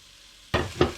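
Vegetables softening in a pot for pork lentil soup, stirred twice after a quiet start: two short bursts of sizzling and scraping, close and moderately loud.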